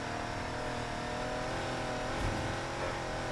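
Ford GT race car engine in the NFS Heat video game, revving at a steady high pitch throughout, loud and close with a dense, continuous drone.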